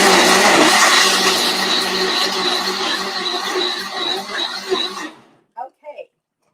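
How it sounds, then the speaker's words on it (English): A kitchen blender runs loud and steady for about five seconds, a dense whirring roar, then cuts off abruptly, leaving a couple of brief soft sounds in the quiet. "it's the blender making its music."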